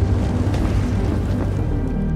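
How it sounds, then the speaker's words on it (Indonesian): A large landmine explosion in a war film booms as a loud, deep, rolling roar that fills the moment and slowly thins out toward the end. "hingga terjadi ledakan besar"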